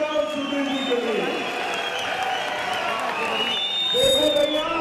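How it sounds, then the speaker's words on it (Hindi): A large crowd at an outdoor political rally in Dharamshala claps and cheers continuously, a dense wash of applause with whoops rising near the end while a voice speaks over it. "जोर से ताली बजाओ सुधीर जी के लिए"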